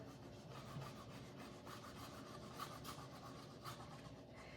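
Faint, steady rubbing and scraping comes from a butterfly transfer being burnished onto a resin tray, a soft continuous friction sound close by with no voices.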